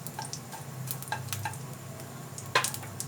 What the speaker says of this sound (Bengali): ফোড়নটা একটু গন্ধ বার হলেই এলাচগুলোকে ফাটিয়ে দিয়েছি।